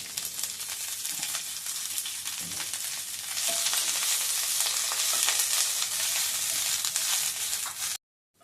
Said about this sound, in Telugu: ఇప్పుడు ఒక స్పూను ఆయిల్ వేసుకొని కరివేపాకును డ్రై రోస్ట్ చేసుకోవాలి, మంచిగా వేయించుకోవాలి.